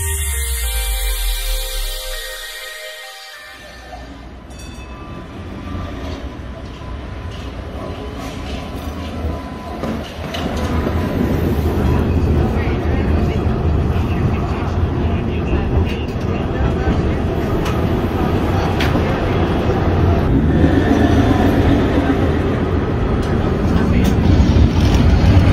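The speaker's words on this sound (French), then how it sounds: "nous sommes dans le tramway de la ligne Saint-Charles" A Saint-Charles line streetcar in New Orleans rolls along with a loud, continuous rumble and rattle from inside the car, quieter at first and then building into a steady roar of wheels and motor.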